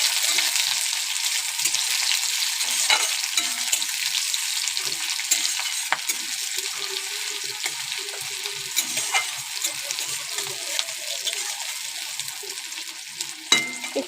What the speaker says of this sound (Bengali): পেঁয়াজ কাঁচা লঙ্কাটা খুব ভালো করে ভেজে নেব।